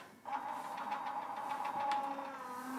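AccuQuilt GO! electric fabric cutter switching on and running, a steady motor hum with a faint whirring whine and soft mechanical ticking, close by and alone.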